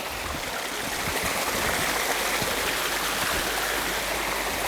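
Strong rush of water flowing past an old water mill at Genadendal, a dense, steady broadband roar and gurgle, close and continuous, with no voices.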